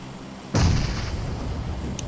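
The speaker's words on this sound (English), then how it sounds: "Back-to-back nades from Senzinoob." Grenades burst back to back in a competitive shooter game match: one heavy, loud boom lands partway in and rolls into a sustained rumble of battle noise, with a faint second pop near the end.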